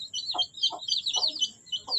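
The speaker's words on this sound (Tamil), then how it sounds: "இதுவும் மொட்டை கழுத்து கோழி" Naked neck chickens cluck softly during eye-drop vaccination, with four short low clucks spaced apart under constant high-pitched chick chirping in the background.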